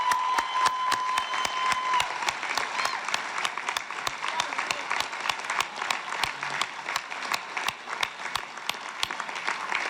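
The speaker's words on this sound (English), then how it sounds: "let's give a big round of applause to all of them" Crowd clapping fills the hall during a political election-night acceptance speech by a Florida governor, with dense, sharp, continuous applause lasting the full ten seconds.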